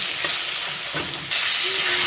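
Close, steady sizzle of tomatoes and potatoes frying in a hot pan, with a few scrapes and clinks of stirring over the hiss.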